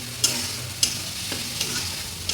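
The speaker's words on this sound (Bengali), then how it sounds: "আর ভালো করে কষাতে হবে।" Bottle gourd leaves and fried potato stirred with spices in a pan, a steady close sizzle with a few sharp spatula scrapes at irregular intervals.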